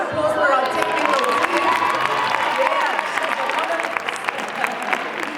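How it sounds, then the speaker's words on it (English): A studio audience at a live talk show applauds and cheers for the technical team, a loud, dense wash of clapping that holds steady throughout, with scattered shouts mixed in. "A round of applause for our technical"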